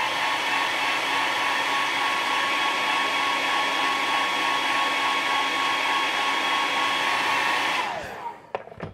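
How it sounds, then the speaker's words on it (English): A hair dryer blows on painted figure work, a steady close whir and hiss that holds evenly and then shuts off with a falling tone and a few small clicks. "hit this with a hair dryer"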